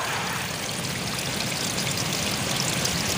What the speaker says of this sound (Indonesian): Airnya mengalir deras.